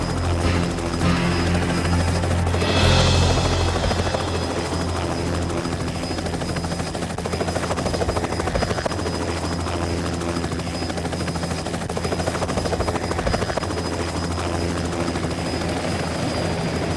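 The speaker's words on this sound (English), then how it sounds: "landing our helicopter on this moving deck" A helicopter landing on a moving ship's deck: its steady, thudding rotor drone dominates throughout, loud and close, with the engine's whine holding constant over wind-like rushing.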